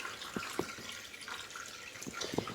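Water draining from the wringer of an O-Cedar EasyWring spin mop bucket, a faint trickle broken by scattered soft drips and small splashes over a few seconds.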